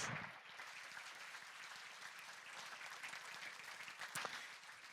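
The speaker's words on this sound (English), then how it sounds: "It's so much easier to get on stage when you have applause" Gala audience applauding a wish child and family coming on stage at a charity dinner, a steady moderate wash of many hands clapping with a sharp single louder clap near the end and no talk over it.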